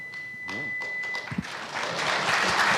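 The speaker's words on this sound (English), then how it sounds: "If we could hold our applause, I know it's tough" Audience members at a political party leadership debate break into applause, with scattered claps and thumps building into fuller clapping over a few seconds.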